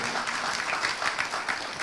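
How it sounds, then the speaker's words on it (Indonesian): A church congregation applauds during a sermon, a full, steady wash of clapping with no speech over it. "Berikan tepuk tangan ya Maria buat itu."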